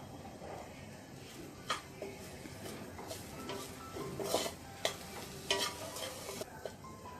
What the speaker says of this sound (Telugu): వేసి కలుపుతూ 2 మినిట్స్ మీడియం ఫ్లేమ్లో ఫ్రై చేసుకోవాలి